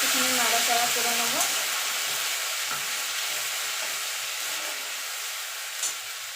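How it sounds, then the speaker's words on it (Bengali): Ginger paste fries in a pan with a steady loud hissing sizzle that fades slightly over time, with a brief voice murmur near the start and a soft clink later. "আদাটাকে একটুখানি নাড়াচাড়া করে নেব।"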